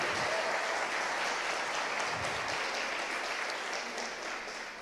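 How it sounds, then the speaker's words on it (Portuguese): Sustained applause from a crowd, steady and full throughout, tapering slightly toward the end. "Você pode dar uma salva de palmas ao Senhor Jesus?"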